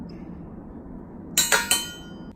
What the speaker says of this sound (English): take this bolt back out, and slide this bracket back behind it